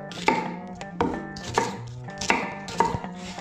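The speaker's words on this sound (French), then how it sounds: "On commence par couper les oignons. On les coupe un peu gros" A knife chops onions coarsely on a board, sharp woody knocks landing in an uneven rhythm of about six strokes, close and clear with no talking.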